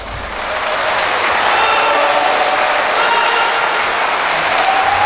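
Election delegates applaud and cheer inside a university gymnasium during a provincial governor party primary, a loud continuous wash of clapping and crowd noise swelling in after a quiet start and holding steady.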